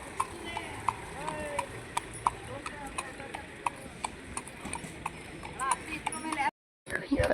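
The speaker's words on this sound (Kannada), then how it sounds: "ಕುದುರೆ ರೈಡ್ ಹೋಗ್ತಾ ಇದ್ದಾರೆ ನೋಡ್ರಿ" During a horse ride on a family trip, a horse's hooves clip-clop in a steady, even rhythm. The hoofbeats are close and fairly quiet, with faint voices in the background.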